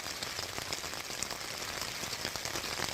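Steady rain patters on a tent during a wild camp in Kielder Forest, a dense, continuous hiss with soft scattered drop taps, close and even throughout.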